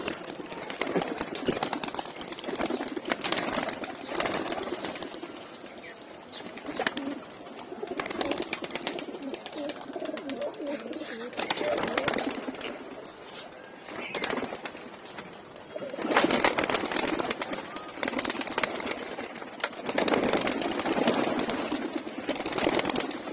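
Pigeons cooing and fluttering as males are released to fly on a cool, cloudy day, soft close coos and wing flaps mixed with ambient noise, with someone talking intermittently.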